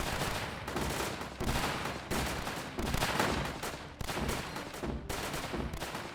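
The 40mm gun in the WWII-and-zombie tower defense game Northend Tower Defense fires in repeated heavy bursts about every second, each a loud broad thump-crack overlapping the next in steady rhythm.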